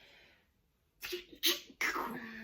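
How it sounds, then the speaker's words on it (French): A single sneeze in a quiet room: a short sharp inhale, then an explosive burst followed by a trailing breathy exhale, close to the listener. "Je crois que je vais éternuer."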